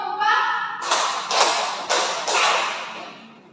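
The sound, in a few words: class clapping four times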